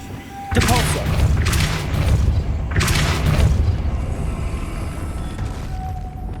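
The Depulso force spell is cast in the game Hogwarts Legacy, giving two loud booming blasts a couple of seconds apart, each trailing into a rumbling decay.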